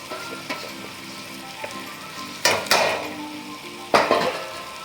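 Ghee-roasted oats hit a tomato-onion masala in a hot pan, a steady sizzle swelling into two bursts of louder frying as they are stirred in with a few spoon scrapes and taps, with no one talking.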